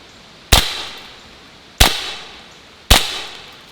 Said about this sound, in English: I'm going to do a full mag